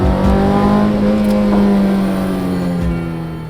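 A car engine revs hard on a rocky back road, a loud sustained drone holding steady then easing slightly toward the end, with no voices.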